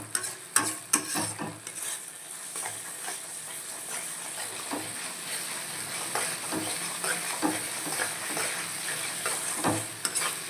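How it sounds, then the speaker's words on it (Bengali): Gobindo Bhog rice being sautéed and stirred in a pan, a steady low sizzle broken by repeated scraping strokes of a spatula, close and moderately loud with no talking. "চালগুলো দিয়ে এখন আমি কষাবো।"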